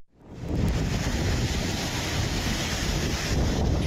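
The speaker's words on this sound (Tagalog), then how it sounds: "nakunan ng isang netizen ang lakas ng hangin na tinatangay ang bumabagsak na ulan" Loud, roaring typhoon wind buffets the microphone continuously in Kasiguran, Aurora, Philippines, mixed with a dense rush of driving rain, with no pauses.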